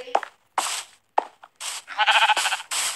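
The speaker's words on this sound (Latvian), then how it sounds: "Atkal tā aita šeit." Sheep in the Minecraft video game let out a string of loud, close, synthetic bleats, several separate calls in an uneven rhythm with short gaps between them, and no talking over them.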